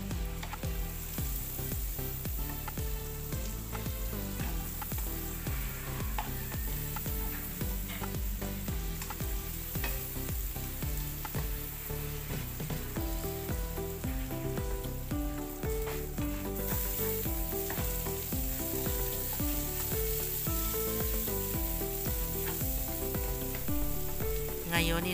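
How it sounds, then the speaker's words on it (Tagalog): Onion sautés in a pan after garlic, for lumpiang sariwa and chop suey. A continuous, even sizzle holds steady and close for the whole stretch, with a faint tonal layer underneath. "Ngayon, isusunod ko na igisa itong sibuyas."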